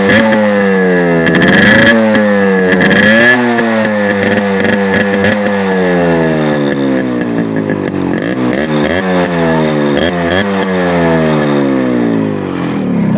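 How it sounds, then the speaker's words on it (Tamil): A Yamaha RX100 two-stroke motorcycle engine fires up and is revved repeatedly, loud and close, its pitch rising and falling in a series of throttle blips over a steady idle, with no talking. "Yamaha RX சவுண்ட் கேட்டது இல்லையே இப்போ கேட்பா எப்படி"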